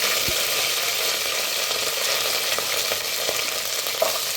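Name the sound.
garlic and curry leaves frying in oil for fish curry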